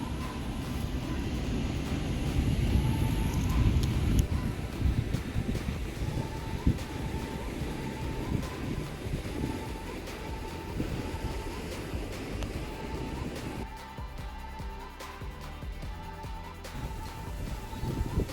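Strong gusty wind blows at Weir 10 on the Murray River in Wentworth, buffeting the microphone with a loud, low, rumbling roar that keeps going for the whole stretch, with no talking.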